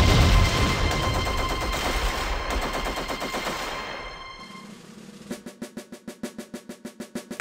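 Battle with a tank under heavy fire: dense, continuous automatic gunfire and explosions for several seconds, thinning out, then a steady rhythmic series of sharp repeated shots near the end.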